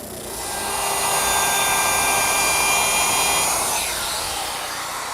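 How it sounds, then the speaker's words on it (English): A router fitted with a 1/4 inch radius bit rounds over the curved edges of a wooden shaving stand, giving a loud, steady, high-pitched whine that holds for several seconds and then drops in pitch near the end. "Now I'm just easing the edges of the curved areas with a 1/4 inch radius bit."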